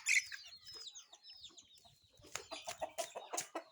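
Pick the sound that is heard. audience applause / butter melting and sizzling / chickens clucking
chickens clucking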